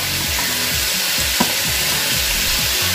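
Carrot hits a hot pan while cooking chicken hakka noodles, a loud, continuous close-up sizzle and fry with faint stirring and background music.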